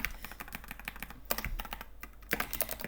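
Close, brisk typing on a computer keyboard, with rapid uneven clicks and occasional louder keystrokes from a spacebar or enter key, continues without pause in a quiet room.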